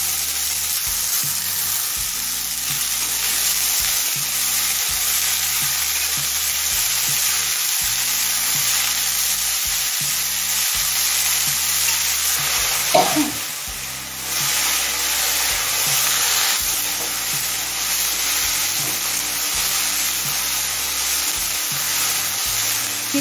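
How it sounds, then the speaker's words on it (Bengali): Snake gourd fries in a pan on high flame, giving a dense, steady sizzle for over twenty seconds with a brief clatter near the middle, while soft music plays underneath. "চিচিঙেটা মিনিট 5-6 হাই ফ্লেমে ভেজে নিয়েছি"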